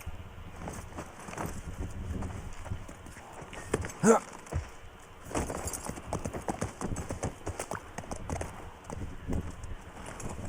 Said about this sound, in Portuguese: Deixar o cavalo aqui.